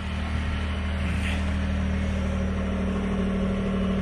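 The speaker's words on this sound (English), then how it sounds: "The engine sounds good" A Ford F150 EcoBoost truck engine idles steadily after a cold start, a continuous low hum with a smooth, even drone throughout and no voices.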